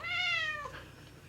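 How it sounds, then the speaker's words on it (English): A cat meows once, a clear rising-then-falling call lasting about half a second, close and fairly loud, followed by quiet room sound. "you are a flesh and blood cat"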